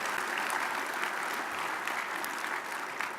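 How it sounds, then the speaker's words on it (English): Steady applause from an audience at a regional mobility summit's opening session, honoring elected officials; dense, continuous clapping from a large crowd, moderately loud, with no voices standing out. "let's give everybody a round of applause, all of those elected officials here today"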